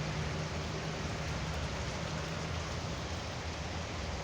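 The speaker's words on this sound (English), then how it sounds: "It's raining hard." Heavy rain pours steadily during a tornado warning in Georgia, a dense, even hiss of drops on surfaces with no letup, fairly close and with no voices.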